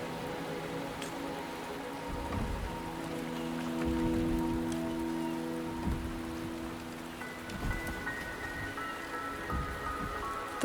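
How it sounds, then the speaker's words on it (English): Steady rain patters softly under a low ambient hum in the game Wuthering Waves, with sustained tonal music-like notes drifting in the background. "The rain is subsiding, and the sky will soon clear."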